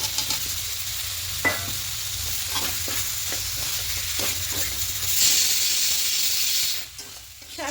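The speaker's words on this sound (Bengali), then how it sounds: "একটু মাশরুমটা দিয়ে খুব ভালো করে কষিয়ে নেব" Mushrooms sautéing in spicy oil in a pan, with a steady close sizzle and repeated spoon stirring and scraping strokes throughout.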